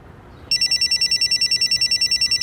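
A phone ringing with a bright electronic trill that starts abruptly after a quiet moment and repeats in rapid, even pulses, loud and close.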